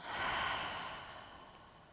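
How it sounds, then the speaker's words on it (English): Long exhale during a yoga session, a breathy rushing sound that starts strong and slowly fades over about two seconds, close and fairly quiet, with no talking. "And breathing out."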